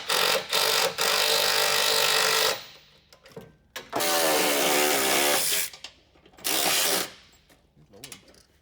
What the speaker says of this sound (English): we'll put those in and start tightening